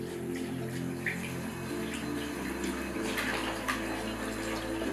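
Water runs steadily from a leaking hand-wash faucet, a continuous close splashing and trickling flow with a low background hum, no talking.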